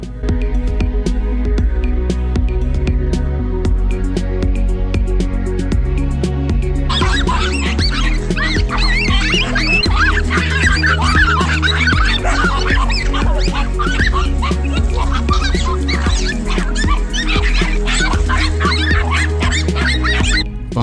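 Small dogs bark and yip repeatedly while fighting a large tegu lizard, the barking mixed under a loud, steady musical backing throughout.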